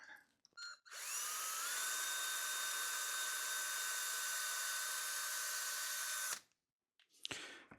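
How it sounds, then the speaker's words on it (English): A power drill whines steadily for about five seconds, its pitch rising slightly as it bites all the way through wood, then stops; brief handling noises before and after. "We're going to drill all the way through."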